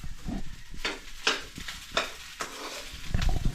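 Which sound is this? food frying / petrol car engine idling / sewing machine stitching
food frying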